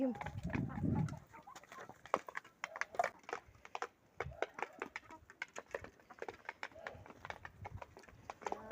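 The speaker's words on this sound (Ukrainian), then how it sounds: "Мої кури їдять." Chickens cluck softly while pecking at food, with many quick tapping pecks throughout and a low voice briefly at the start.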